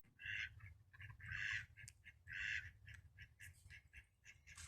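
A duck quacks repeatedly at a carp fishing lake, close and fairly loud, in rhythmic bursts of raspy calls with brief gaps between them.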